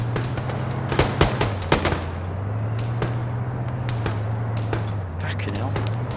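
Gunfire from a SPAR-style shooter game: a few sharp, loud shots crack in a cluster early on, then sparser distant pops over a constant low engine-like drone, with people talking throughout.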